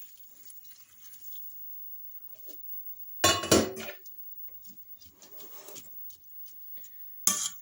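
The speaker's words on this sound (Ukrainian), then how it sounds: "І ось мій маринад закипів, і я гарячим заливаю нашу морку." Hot boiled marinade poured over shredded carrots for pickling, a short splashing burst followed by softer trickling and a final brief splash, with quiet gaps between.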